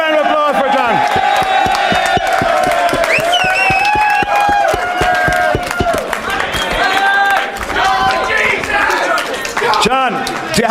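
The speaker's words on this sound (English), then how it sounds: "Big round of applause for John." Studio audience at a strip poker show cheers and whoops loudly over scattered applause, a boisterous, sustained mix of shouting voices and clapping that carries on for several seconds.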